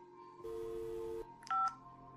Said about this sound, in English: the phone cuts out